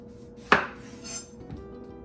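A knife cuts through eggplant into thick slices, giving one sharp, close thunk followed by a fainter second cut, with no talking.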